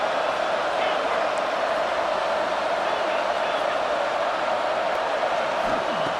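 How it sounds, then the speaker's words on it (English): Steady roar of a stadium crowd at a Notre Dame versus Oregon college football game, a dense continuous wash of cheering and noise filling the whole stretch with no breaks. "listen to this crowd noise"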